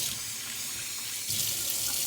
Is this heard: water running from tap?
yes